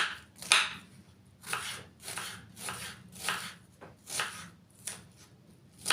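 A knife chops vegetables on a board for an oven-baked chicken and vegetable dish, making a steady series of crisp, close cuts in uneven rhythm with short pauses between bursts.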